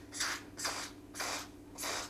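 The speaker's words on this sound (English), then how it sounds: "So I'm just gonna try and get the nozzle in there and just spray this stuff around." Four separate bursts of CorrosionX sprayed from a nozzle into a CC3D Mini 250 quadcopter, evenly spaced, close and hissing, with no talk.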